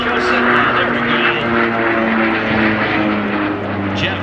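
A Yak-110 aircraft roars past during an air show display on the Gold Coast, a loud sustained engine drone with a steady tonal hum and slight pitch shifts, under a public-address announcer's voice.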